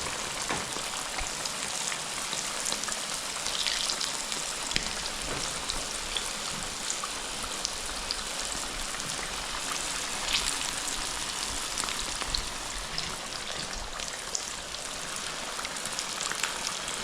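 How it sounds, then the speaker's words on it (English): Samosas frying in a pan of oil give a steady, even crackle and hiss that continues without a break, fairly soft and with no one talking over it. "now the next step is just to fry your samosa"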